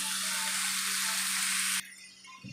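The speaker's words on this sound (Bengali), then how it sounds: "আলুগুলো খুব ভালোভাবে লাল লাল করে আমার ভাজা হয়ে গেছে।" Potatoes frying in oil in a pan, a loud, dense, steady sizzle that cuts off abruptly partway, leaving a quiet kitchen background.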